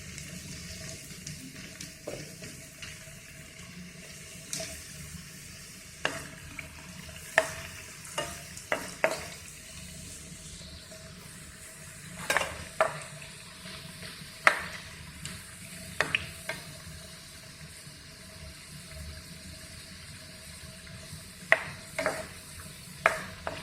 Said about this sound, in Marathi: सर्वात प्रथम आपण बटाटा फ्राय करून घेऊ.